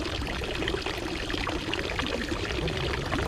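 Water from a public drinking fountain in a Swiss town pours in a steady, close stream. The rushing, splashing flow continues without a break, and no voices are heard.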